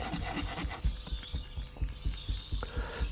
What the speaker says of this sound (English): Put the fingers along the edge of the box to stop all the sand flying out as I ram it.